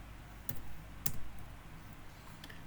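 Keys tapped on a computer keyboard while entering numbers into a document, a few sparse close clicks spaced about half a second apart over a quiet room hum.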